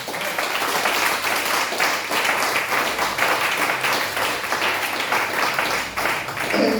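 A church congregation in Abidjan applauds during a service, its dense, continuous clapping filling the room loudly and evenly for several seconds without a break.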